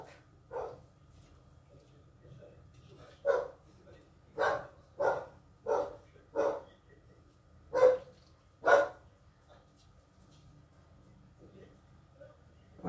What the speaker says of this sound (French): J'écoute parce que le chien aboie.